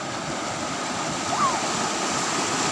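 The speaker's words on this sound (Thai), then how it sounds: "โอ้น้ำแรงมากเลยครับ" Strong-flowing water rushing steadily in a stream or canal where apple snails are gathered, a loud, continuous broadband roar throughout with a faint voice briefly over it.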